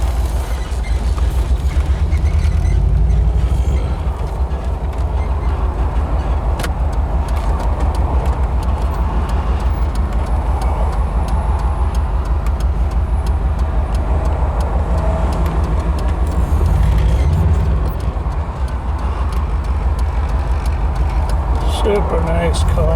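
A 1979 VW Beetle Cabriolet with a 4-speed runs on a test drive, its engine a loud steady drone that swells slightly at times, with someone talking over it.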